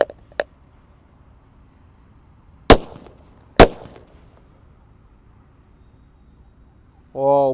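Disco firecrackers burst inside bamboo: a couple of small pops first, then two loud, sharp bangs a second apart with short echoing tails, followed by quiet and a voice at the very end.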